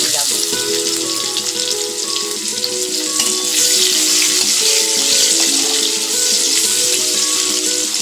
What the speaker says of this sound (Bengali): এবার আমি এর মধ্যে কিছু পেঁয়াজ কুচি দিয়ে দিলাম।